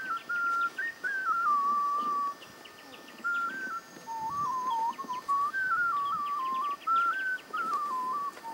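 Melodic human whistling by elephant handlers (mahouts) in Thailand, a wavering tune of sustained notes with brief pauses, carrying over faint outdoor ambience and distant bird chirps.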